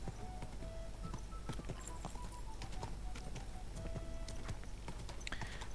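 Horse hooves clip-clop in a quick, irregular rhythm while riding in Kingdom Come: Deliverance 2, the taps faint under a steady background hum.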